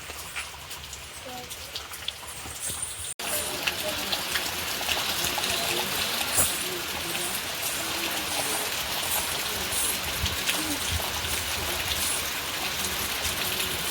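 Heavy rain pours down steadily at a rural home, a dense, loud hiss of drops hitting surfaces that thickens after a brief quieter start and continues unbroken.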